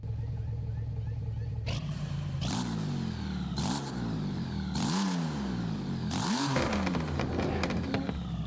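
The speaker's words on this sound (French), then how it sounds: "la voiture, elle fait un bruit totalement différent" A modded car engine in Forza Horizon 5 revs hard several times, each loud rising roar falling away in turn, with a steady engine drone underneath.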